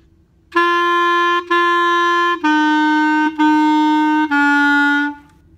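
A clarinet plays five separate tongued notes, each cleanly attacked with a short break between, descending slightly in pitch, played solo and close.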